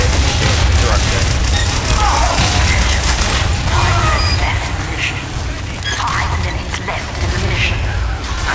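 Loud, dense explosions and crashing booms in the team shooter game Team Fortress 2, a sustained heavy roar with repeated impacts and clutter throughout, with voices shouting underneath.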